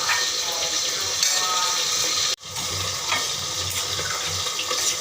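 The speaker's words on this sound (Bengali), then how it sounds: "এবারে দিয়ে দেবো এই যে জল, সজনে ডাঁটার ঝোল।" Water splashes into a hot pan of drumstick (moringa) and potato curry, setting off a loud, steady sizzle that briefly cuts out and then resumes, with some talking alongside.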